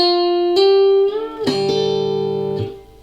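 Plucked guitar notes ring out and overlap, sustaining tones colliding into a slightly dissonant clash before fading, with no talking.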